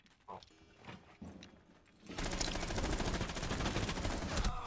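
Sustained rapid gunfire in a tactical shooter video game round, a loud dense burst of shots starting abruptly midway after quieter scattered clicks and movement, continuing steadily to the end.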